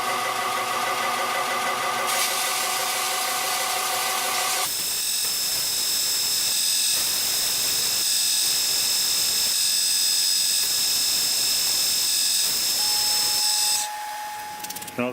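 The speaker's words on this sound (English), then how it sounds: "Give them a quick sanding on the belt sander." A belt sander with 120-grit paper runs in a workshop while small wooden coaster pieces are pressed against it, a loud continuous whine with shifting grinding rasps as each piece touches the belt, then winding down at the end.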